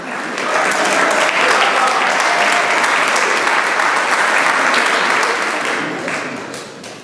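Loud, close applause from a concert audience, many hands clapping in a thick continuous wash that swells in after a moment, holds strong and then fades over the last second or so.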